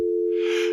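A telephone busy or off-hook tone after a caller hangs up, a steady unbroken electronic tone sounding alone and fairly loud for under a second, with a faint hiss rising partway through.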